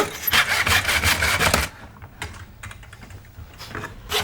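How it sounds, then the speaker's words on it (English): A miter saw cuts 70 by 19mm pine framing: a loud, gritty cut of about one and a half seconds, then quieter clatter and handling of the wood. "We start by squaring off the end of the 70 by 19mm pine framing and cutting it to length. The miter saw is perfect for this"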